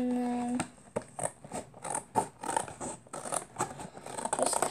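Scissors cut through recyclable material for a homemade drum, a series of crisp snips and scrapes close by after a brief tone at the start, with no one speaking.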